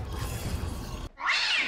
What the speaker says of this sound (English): What is up with that cat?